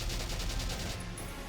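Rapid gunshots from the video game Valkyria Chronicles come as a quick, evenly spaced burst of about ten cracks, loud and close, over a steady background.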